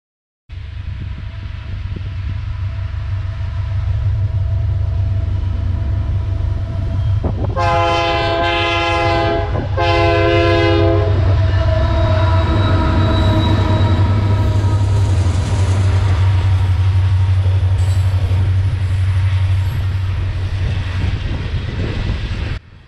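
A CSX SD40 diesel locomotive rumbles past loud and close on a long, steady roar, sounding two blasts of its multi-tone air horn partway through as the engine drones on beneath.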